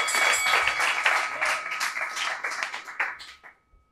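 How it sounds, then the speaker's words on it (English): An audience at a comedy roast battle in New York City claps loudly and densely, the applause tapering off and fading to near silence by the end. "Y'all give them a round of applause."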